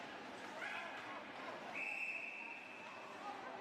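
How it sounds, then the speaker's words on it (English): A referee's whistle shrills at a women's ice hockey league game between Adelaide and Melbourne: a short blast and then a longer sustained one, under steady play-by-play commentary and a background of rink noise. "There's a whistle behind play here"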